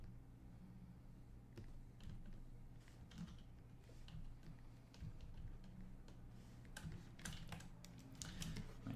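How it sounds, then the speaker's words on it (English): Computer keyboard keys struck hard during a digital painting livestream, a steady run of sharp, irregular clicks and taps close by over a low background hum. "you might be able to hear it if I slam my keys"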